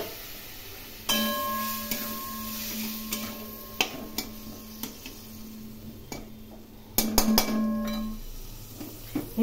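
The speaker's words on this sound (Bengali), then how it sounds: "অল্প সামান্য জল দিয়ে এগুলোকে আমি কষিয়ে নেব" Ground cumin, salt and turmeric with a spice paste are sautéed in a little water for a rohu fish curry, giving a faint, soft sizzle under a steady hum, punctuated by sharp clicks and scrapes of a spoon against the pan.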